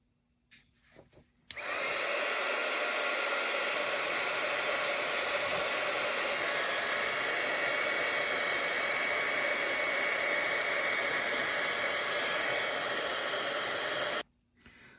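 A heat gun blows a steady, loud hissing whir for about twelve seconds while shrinking heat shrink tubing on a clear Enterprise C model part, then cuts off abruptly.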